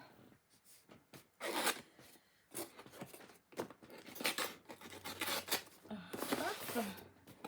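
Parcel from Craftelier being opened at close range: scattered tearing, crinkling and snipping sounds in short bursts, with brief pauses between them.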